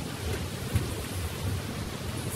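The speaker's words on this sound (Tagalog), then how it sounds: "Ang sounds natin is ulan" Rain falling outdoors among garden plants in Japan, a steady, soft hiss with no distinct drops standing out.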